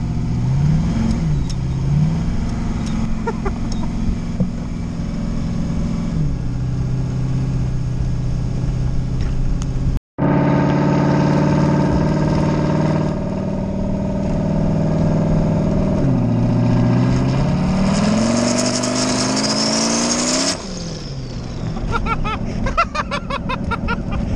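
A Fox-body Mustang with a swapped LS 5.3 V8 revs hard while drifting, its loud engine climbing and falling through repeated surges with a brief cutout midway and a long high-rpm wail before it drops back.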